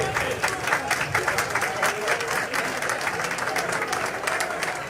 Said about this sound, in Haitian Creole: On applaudissement pour Dinépa.